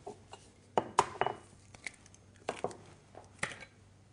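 An egg going into a bowl of chicken kofta mixture with salt and breadcrumbs, sharp clinks and taps against the bowl in a few quick bursts, with quieter handling noises between.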